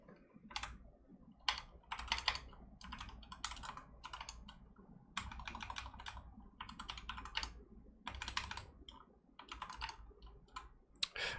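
Close, steady typing on a computer keyboard, bursts of rapid key clicks broken by short pauses, with no voices.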